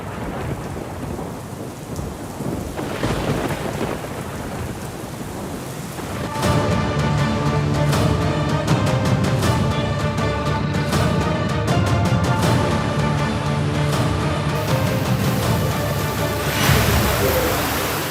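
Heavy unseasonal rain pours steadily during a thunderstorm, with a deep rumble of thunder building partway through and rolling on beneath the loud, dense downpour; no voices.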